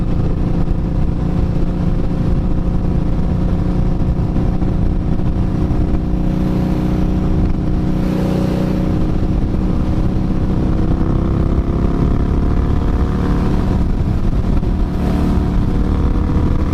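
A motorcycle engine drones steadily while riding, a continuous loud, close hum with subtle shifts in pitch as speed changes, no voices over it.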